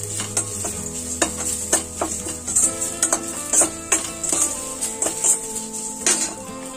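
Green chillies and asafoetida being sautéed in a pan for kara pori, with a steady sizzle and repeated close scraping and stirring clinks of a spoon against the pan, no talking.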